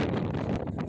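Strong wind buffets a microphone outdoors near Rampara in Gujarat, a loud, steady rush of rumbling broadband noise with no voices, lasting about a second.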